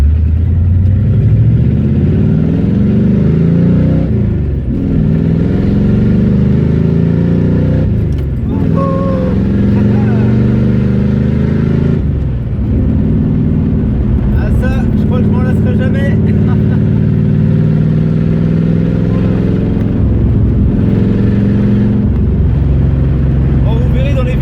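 Pontiac Firebird V8 driving with its exhaust cutouts open, a loud continuous throaty engine rumble with repeated rises and drops as it accelerates and shifts, close and dominant throughout.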